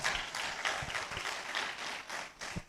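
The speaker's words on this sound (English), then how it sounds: "I believe that our discussants deserve a round of applause" An audience at an inaugural public lecture series claps together, a sustained ripple of fairly soft, distant applause with no talking over it.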